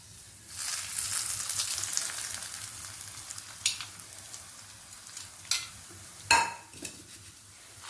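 Browned mixture for salt dumplings (uppu urundai) stirred in a hot pan, giving a steady sizzling fry with scraping clicks of a spoon against the metal and a few sharper knocks near the end.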